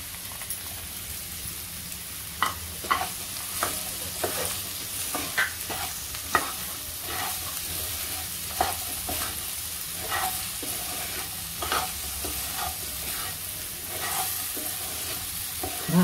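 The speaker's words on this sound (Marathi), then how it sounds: "आता लगेच आपल्याला भेंडी घालायची आहे फोडणीमध्ये।" Okra fries and is stirred in a tempering of thecha in a pan, making a steady crackling sizzle broken by regular sharp spatula scrapes and taps across sixteen seconds.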